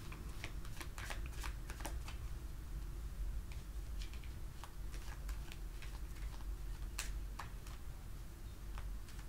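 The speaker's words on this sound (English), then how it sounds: "Just let me shuffle." Rapid crisp riffling of tarot cards being shuffled, repeated in quick bursts over a steady low background hum, close up with no talking.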